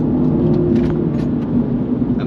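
Mini GP3 engine in sport mode during a downshift, a loud, close, deep rumble that swells and dips slightly over a couple of seconds, with no voices.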